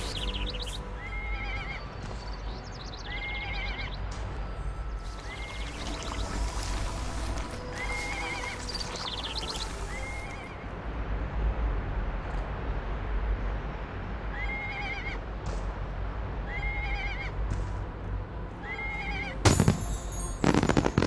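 Donkey mount in the online role-playing game ArcheAge, heard as repeated braying and whinny-like calls over steady hoof clops and a constant ambient game bed, moderate loudness with no talking.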